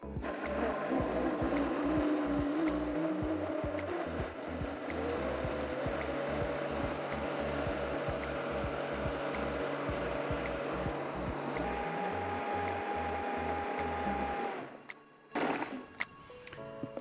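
A blender whirs steadily at low speed through a vegan mousse as melted coconut oil goes in, a continuous close motor drone with a faint rhythmic ticking, cutting out abruptly near the end.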